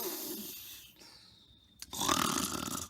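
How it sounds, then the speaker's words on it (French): Mrs. Claus snoring loudly, a long rasping inhale followed by a sharp snort and a rough, throaty exhale, close and alone with no talking. "Elle ronfle comme un vieil ours mal léché."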